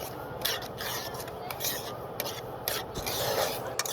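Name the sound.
stirring semolina while roasting in a pan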